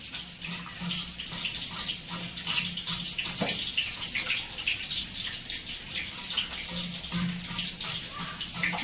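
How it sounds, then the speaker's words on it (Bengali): Gobindobhog rice being washed in water, with continuous close splashing and swishing as grains are rubbed and rinsed, broken by occasional clinks of the vessel, with no voices. "তারপরে গোবিন্দভোগ চালটা ভালো করে ধুয়ে রাখি"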